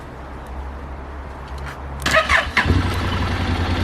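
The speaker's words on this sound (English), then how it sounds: "Turn on the motor but do not touch the throttle." A Honda NC750 DCT motorcycle engine cranks and fires after a quiet stretch, then settles into a steady low idle, heard up close with no talking.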